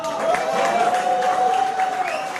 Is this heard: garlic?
no